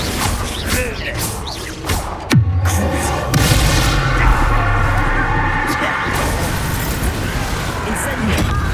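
A Confringo fire spell blast in Hogwarts Legacy on PS5: a sharp explosive bang followed by a sustained roaring, crackling rumble, loud and close, with a voice talking over parts of it.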